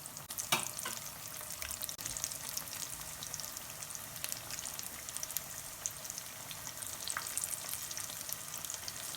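Mirch vada, besan-coated chilli fritters, sizzling in a pan of oil, a continuous close frying hiss with scattered pops and crackles and an early stir, no talking.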